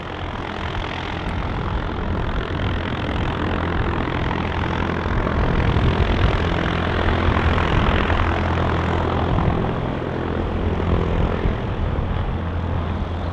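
A propeller aircraft turning onto the downwind leg near Manchester City Airport, heard as a steady, broad engine drone at moderate distance that swells slightly midway and holds without talk.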